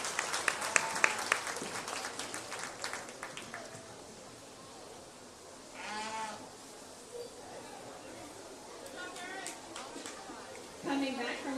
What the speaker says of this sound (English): let's go ahead and give everybody in this class a big round of applause